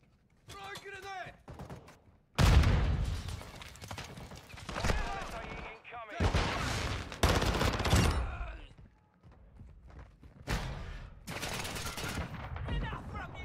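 Gunfire from Call of Duty Warzone 2.0 comes in bursts of sharp rapid shots, loud and near, separated by short pauses, with voices talking between and over the volleys.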